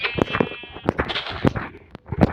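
In a Minecraft-style video game, short nasal sheep bleats repeat over a busy layer of game sounds, with a high buzzing tone near the start.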